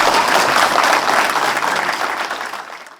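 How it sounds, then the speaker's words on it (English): A group claps together during a gi jiu-jitsu training class on the mat, a loud dense burst of clapping that gradually tapers and fades away toward the end, with no talking. "Okay, let's clap again."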